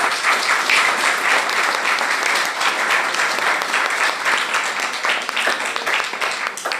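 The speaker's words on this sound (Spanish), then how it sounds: "Y un aplauso para la compañerita" Sustained audience applause at an engineering conference for a technology institute anniversary, a dense, even wash of many hands clapping that holds loud and steady throughout, with faint voices underneath.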